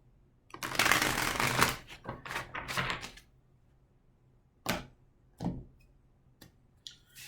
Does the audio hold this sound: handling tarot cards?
yes